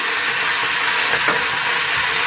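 Mustard and poppy seed paste hitting hot oil in a pan, giving a steady, close, dense sizzle and hiss that holds evenly throughout with no talking.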